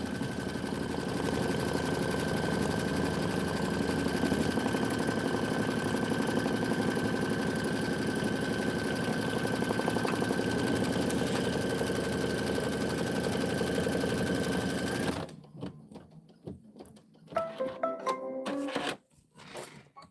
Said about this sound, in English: let me stitch one together and make sure it looks right